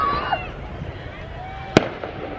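A single sharp firework bang cracks out over a lake on a July evening, with a faint whistle and softer pops around it.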